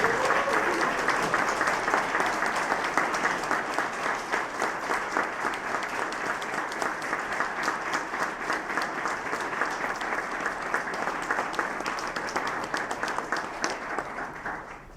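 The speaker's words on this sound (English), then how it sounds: "Would the rest of you please rise and give them a round of applause?" A seated audience at a July 4th naturalization ceremony gives steady, sustained applause for new United States citizens, a dense wash of clapping from many people that fades out at the end.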